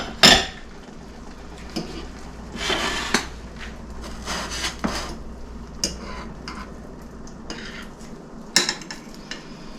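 Utensil scraping and clinking against a bowl while reconstituted freeze-dried eggs are stirred, a steady close rubbing with scattered sharper taps and knocks.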